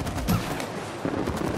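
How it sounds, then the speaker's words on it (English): Gunfire in the co-op video game It Takes Two, a short burst of rapid shots with a sharp opening crack, loud and close, with no talking over it. "You gotta shoot him."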